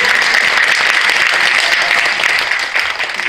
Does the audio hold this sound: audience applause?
yes